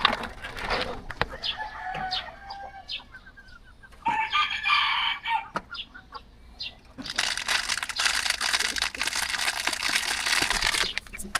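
Chickens cluck and squawk nearby while a rooster crows, followed by a dense stretch of flapping and scratching noise from the flock.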